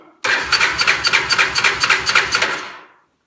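A 1986 Honda Fourtrax 350 ATV engine cranks over repeatedly without catching, a close, steady run of rhythmic starter-driven chugs lasting about three seconds before stopping abruptly into silence.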